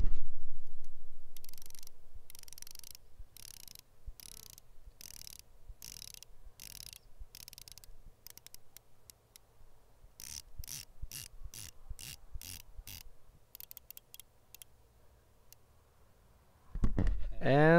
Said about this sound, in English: Let me just give you a little voice sample of the bezel action.